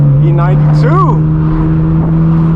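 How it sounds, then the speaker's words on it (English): A BMW E92 passes on a supercar rally route, a brief revving swell with a rising-then-falling pitch sweep over a steady engine drone, loud and close. "E92 sounds good"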